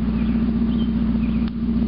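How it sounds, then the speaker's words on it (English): A 1991 Mazda Miata MX-5 engine runs close by at a loud, steady drone after a catalytic converter replacement, its low rumble holding constant with only a slight dip. "Definitely revs up a whole lot quicker though."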